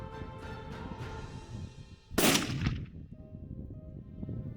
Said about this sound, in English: I was able to make a shot on this bull